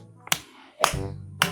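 Hands pat soft clay during village pottery making, three separate slapping pats spaced apart, fairly close and moderately loud, with a low hum between them.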